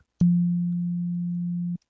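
A single steady, pure sine-wave tone from a C# audio synthesizer starts abruptly, holds at constant loudness for about a second and a half, then cuts off cleanly.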